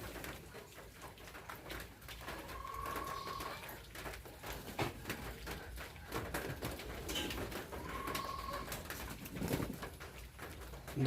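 Bombay pigeons gathered to bathe coo in two soft drawn-out calls amid faint splashing and shuffling, against quiet background noise.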